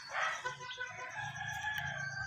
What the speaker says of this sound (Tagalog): Ito ang ating mga broodcock.